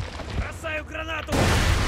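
A grenade explodes in the video game Borderlands 2, arriving as a sudden loud, rumbling blast that keeps roaring to the end, just after a voice speaks over quieter game sounds.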